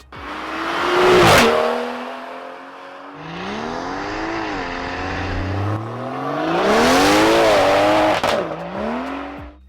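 A tuned BMW M140i revs hard and accelerates, engine pitch climbing through gears with crackling overrun, loud and close, tires briefly squealing.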